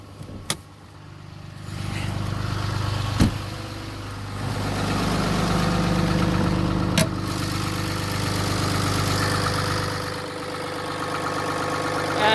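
A 2016 RAM 3500 Laramie 4x4 with a 6.7 Cummins turbo diesel idles with the hood up. It makes a steady, close, low rumbling drone, with a few sharp clicks early on and no talking.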